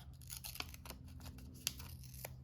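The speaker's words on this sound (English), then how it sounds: "And I'm going to trim this so that it doesn't take up quite so much space." Scissors snip through paper scraps while trimming a piece down to size, making a few quiet, scattered cuts with light rustling of paper and no voices.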